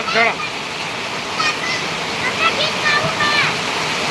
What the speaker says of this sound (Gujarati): વરસાદ આવી ગયો જબરદસ્ત